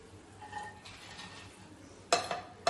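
Onions tipped into a pan of hot cumin-seasoned oil for chicken curry, a sudden bright sizzling burst with a clink of utensil against the pan, after a quieter stretch of faint kitchen clatter.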